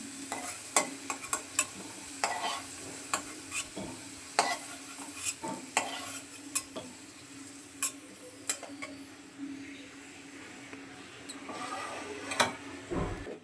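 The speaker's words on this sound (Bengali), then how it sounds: "আলুগুলোকে লাল করে ভেজে নিচ্ছি" Potatoes fry in oil with a soft continuous sizzle, while sharp utensil taps and clinks stir the pan at irregular intervals.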